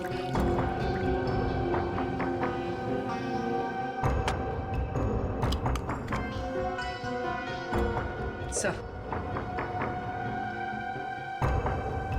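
Water is poured from a container into a plastic drinking bottle with a gurgling, bubbling pour that rises and varies in pitch across several seconds, partly under background music and other noise.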